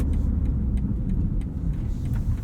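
2022 BMW M5 CS driving, a deep steady engine and road rumble from inside the cabin with a few faint ticks, loud and continuous without speech.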